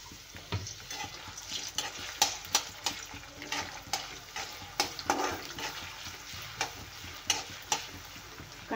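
Finely chopped onions fry in hot oil in a kadhai, a steady close sizzle broken by repeated sharp scrapes and taps of a ladle stirring, with no voices.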